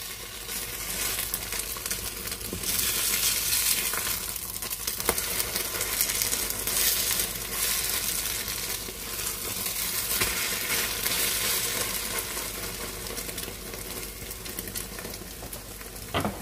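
An omelette sizzles and fries in a pan, with steady crackling broken by a few scraping and tapping knocks as it is turned, close and clear with no talking.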